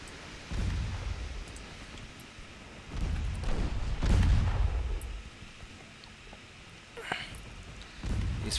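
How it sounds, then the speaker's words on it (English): Torpedo hits on a warship in the naval battle game Ultimate Admiral Dreadnoughts, heard as a run of deep, rumbling booms with a heavy roar near four seconds and a sharper burst just after seven. "torpedo hit."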